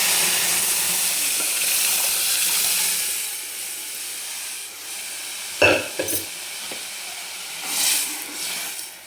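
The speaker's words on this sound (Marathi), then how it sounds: "मस्त एकदम कडक फोडणी बसलेली आहे बघा" Crushed garlic cloves tempering in hot oil give a steady, hissing sizzle, close and fairly loud, with a few sharper pops and crackles in the second half and no talking.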